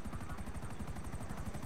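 Helicopter from Grand Theft Auto V, a steady rapid rotor chop with rhythmic thumping pulses, moderately loud and continuous with no talk over it.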